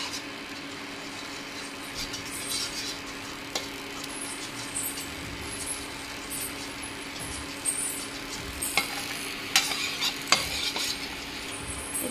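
Food colouring being stirred into leftover rice starch in a bowl, a faint continuous scraping and sloshing with occasional sharper clinks of the utensil, low and steady with no speech.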